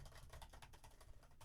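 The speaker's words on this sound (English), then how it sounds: "I'm going to shut up and keep typing." Quick, faint computer-keyboard typing, with a steady patter of light keystrokes heard alone at a distance.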